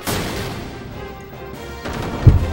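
An Impact Gun attack in the video game Xenogears sounds as a booming blast followed by a rumbling tail, then a second heavy hit near the end.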